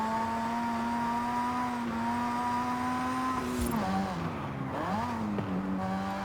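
A race car engine in Forza Horizon 5 drones at steady high revs under full throttle, then pitches down and back up through quick gear changes, with a faint tire squeal and no talking.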